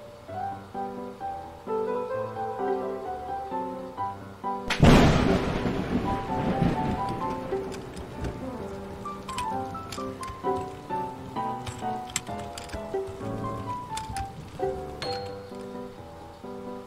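A stormy level in the video game Gauntlet of IRE: a sudden loud thunder crack near the middle breaks over steady rain, with game music playing the whole way through and no speech.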